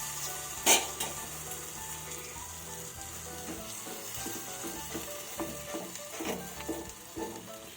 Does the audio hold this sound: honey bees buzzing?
no